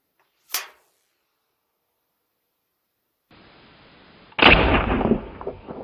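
An AirForce Texan .457 air rifle fires a homemade cast 45-70 round at a 300-yard target: a faint sharp tick, then quiet, then a low hiss that breaks into one loud, close blast with a decaying rumble.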